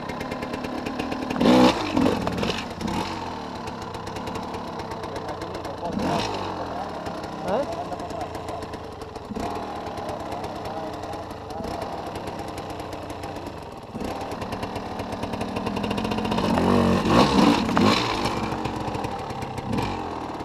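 Hard enduro motorcycle engine idling and blipping in short revs, rising and falling in bursts with a sustained climb near the end, while people talk nearby.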